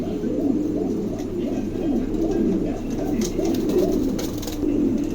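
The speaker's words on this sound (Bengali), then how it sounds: "আজকে পানির দামে কিং কবুতর দেওয়া হচ্ছে, দাম মাত্র 1000 টাকা" King pigeons at a pigeon market, rhythmic throaty cooing that keeps repeating, fairly close against a busy background murmur.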